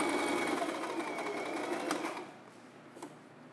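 Sewing machine stitching a dress shirt being made into a dress, a steady close whirring run that slows and quiets toward the end, with a couple of brief clicks after it stops.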